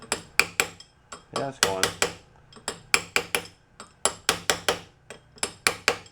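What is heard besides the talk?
hammering brass drift on merry-go-round parts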